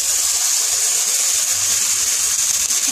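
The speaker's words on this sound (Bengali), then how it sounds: "এবারে আমি জল দিয়ে দিচ্ছি" Water is poured into a hot pan of frying potatoes with spices, a continuous close hiss and bubbling rush that stays loud and steady throughout.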